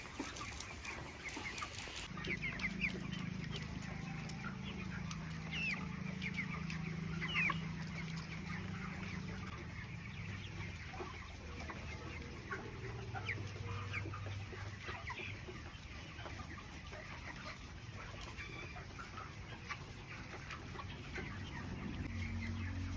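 Chickens cluck continuously inside a poultry farm shed fitted with a nipple drinker system, a dense flock chatter at moderate distance over a low steady hum.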